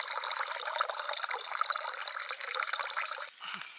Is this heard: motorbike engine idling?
no